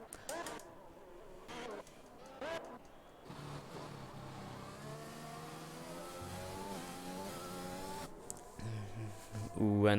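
A Red Bull Formula 1 car from an F1 video game race at Bahrain International Circuit, its high-pitched engine droning and rising as it passes, under a voice talking throughout.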